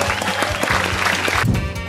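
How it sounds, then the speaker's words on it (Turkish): A burst of applause from a crowd, dense clapping throughout with music playing underneath. "Alkış."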